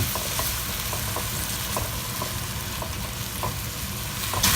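Tomato paste, onion and garlic frying in a pan, a dense continuous sizzle with regular light scraping strokes of a spoon, fairly loud and close, no voices.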